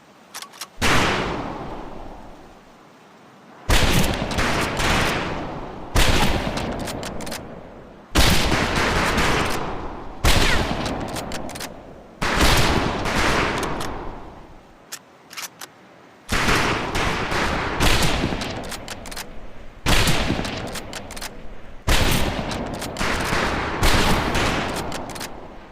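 A rifle volley at a firing range in Medal of Honor: Pacific Assault cracks out in repeated loud bursts of overlapping gunshots, separated by short silent gaps, close and harsh.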